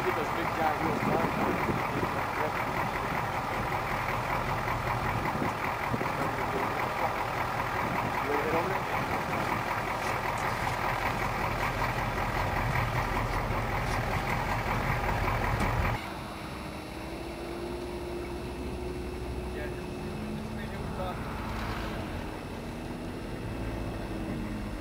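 Combat tactical vehicle with big wheels driving on a gravel test track, a steady loud engine roar that drops and changes character partway through, with speech over it.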